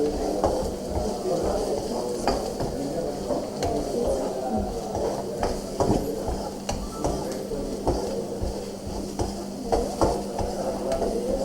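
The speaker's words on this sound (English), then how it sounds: "We will fry the onion till it is just transparent" Onion and curry leaves frying in a pan, a steady close sizzle with frequent stirring scrapes and light clinks of a utensil against the pan, carrying on evenly throughout.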